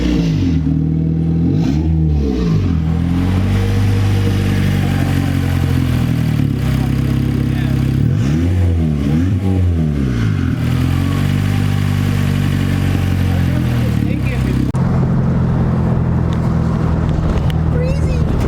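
A turbocharged Acura RSX Type S engine with an open downpipe, exhaust disconnected, revs hard several times, rising and falling in pitch with a whistling turbo spool, loud and close, while people talk over it.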